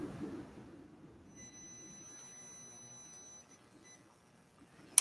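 A multimeter on continuity mode tests a push button, giving a thin, steady high-pitched beep that sounds for about two seconds in a quiet room and then cuts off.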